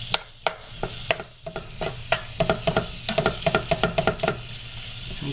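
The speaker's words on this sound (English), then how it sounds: "Break it up a little bit because obviously they're still stuck together." Beef chorizo sizzles in a pan while a utensil breaks it apart, sending a rapid run of close, sharp scraping taps over the steady frying hiss, with no talking.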